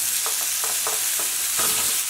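Tomato goes into a pan of frying peppers and onions, and a steady sizzle of hot oil carries on with a few soft taps and scrapes of stirring in the pan.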